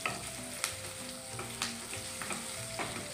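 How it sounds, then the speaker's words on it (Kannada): Semolina frying in a pan of hot tempering, a soft continuous sizzle broken by stirring scrapes and a few sharp utensil taps, heard quietly and close with no talk. "ಒಗ್ಗರಣೆ ಹಾಕಿದ್ಮೇಲೆ ನಾನು ರವೆ ಹಾಕ್ತೀನಿ"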